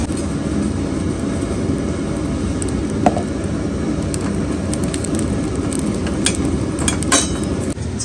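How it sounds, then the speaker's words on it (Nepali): A constant dense hiss and low roar of oil heating in a pan for Nepali chilli pickle, steady and fairly loud throughout, with a few faint clicks and light metallic taps. "अब अचारको लागि तेल खर्याउन आँटेको छु।"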